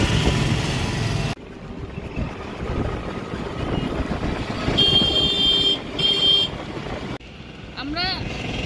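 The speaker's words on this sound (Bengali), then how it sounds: "আমরা গাড়ি করে যাচ্ছি" A car drives along a road toward Puri, its engine and road rumble carrying steadily with wind buffeting, brief horn toots, and people talking over it.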